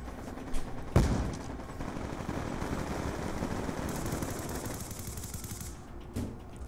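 Sustained rapid gunfire rattles through a Call of Duty: Black Ops 2 online match, with a couple of sharp louder shots standing out against the continuous fusillade.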